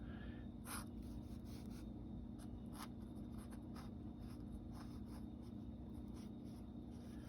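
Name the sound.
drawing over pencil lines with a thin Sharpie pen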